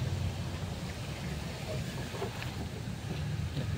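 Wind blows through an urban home garden growing bitter melon, a low, steady rumble of gusts buffeting the microphone with no other distinct sounds.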